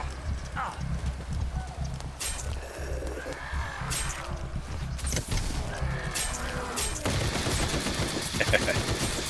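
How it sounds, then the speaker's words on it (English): A minigun in the zombie game Night of the Dead fires in bursts, rattling gunfire mixed with game noise and clatter, sustained across the span with a person talking over it. "they're getting shot by the minigun"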